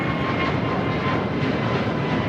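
An airliner roars past at LAX airport with a steady, broad engine rush that fills the whole clip, loud and close with no talk.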